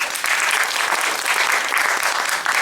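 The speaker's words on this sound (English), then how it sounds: "Applaud if you are on Facebook." A theater audience at a comedy show claps loudly and steadily throughout, the dense applause swelling slightly in waves without a break.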